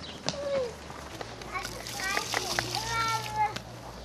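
Kindergarten children watering newly planted trees outdoors, with scattered light splashes and water spatters under near, lively child chatter and adult voices.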